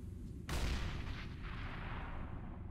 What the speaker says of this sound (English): Throwing flashbang. Deploying flashbang.